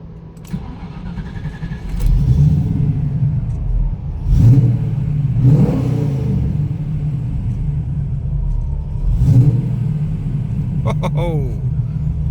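Inside a TVR Griffith 430, the engine starts and rumbles, then gives a couple of short revs over a steady low idle, with people talking over it.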